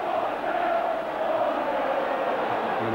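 A football crowd at a Football League Cup match chants about the score, a broad sustained roar of many voices with a rising and falling tonal chant, loud and distant as a stadium mass.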